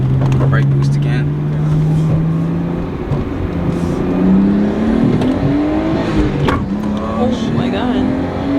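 Nissan R32 Skyline fitted with an RB25 turbo engine accelerating hard through the gears, loud and close, with engine pitch climbing and dropping at each shift, then fading lower toward the end.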